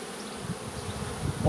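Bees issuing from a hive as a swarm give a continuous, close, loud droning buzz of countless wings, holding steady and swelling slightly at the end.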